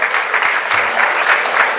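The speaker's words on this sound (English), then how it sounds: "can we please have a huge round of applause for Mr. B.S. Acharya, the founder of FSSAI?" A seminar audience gives brief, lively applause for a guest on stage, the clapping close and fairly loud, with uneven bursts pulsing through the short stretch.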